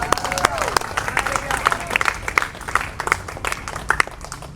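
A church congregation bursts into sustained applause and cheering for God, dense clapping and crowd noise filling the room with voices mixed in throughout.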